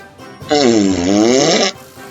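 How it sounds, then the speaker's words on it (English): A single loud, booming fart, a sustained low rasping blast about a second long, close and clear, with quiet before and after. "lets go a huge, big, booming fart"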